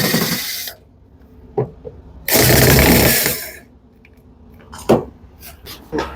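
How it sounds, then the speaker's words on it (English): Screws are backed out of the side covers of a Samsung dryer with a power driver, which gives a sustained loud whirr for about a second among shorter mechanical bursts and clicks, close up. "Here all the screws we have to remove here also."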